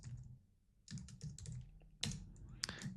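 Computer keyboard keys clicked while writing C# code, bursts of fast typing separated by a brief pause, close and clear with no talking.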